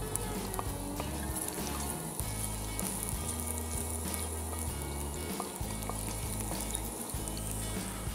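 Chopped garlic sizzling in a pan while cooking paella at a camp, a steady close frying hiss running through the whole stretch with low rumbling underneath.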